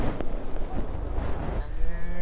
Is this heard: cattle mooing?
yes